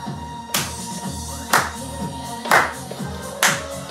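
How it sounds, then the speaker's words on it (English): Four sharp hand claps spaced about a second apart, crisp and close, with a low hum behind them. "You clap your hands."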